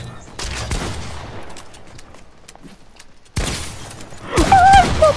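Video game gunfire rings out in two rapid bursts of loud shots separated by a quieter stretch, with sharp impact and shattering noises in the later burst.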